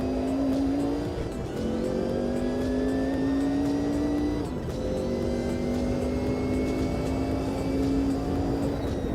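A race car engine in Automobilista 2 revs hard and climbs steadily through the gears, its loud, continuous tone rising in pitch with brief dips at each shift, heard alone and close.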